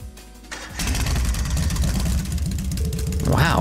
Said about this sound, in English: First is starting up the engine.